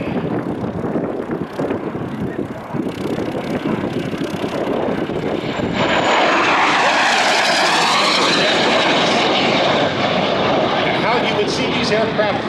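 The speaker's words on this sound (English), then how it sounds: "Aircraft flying in the races at Reno as they would be making their passes down the home stretch" Racing jet aircraft roar past on the home stretch at the Hollister airshow, a loud sustained jet rush that swells into a broad, bright flyby whoosh midway, with crowd and announcer talk running underneath.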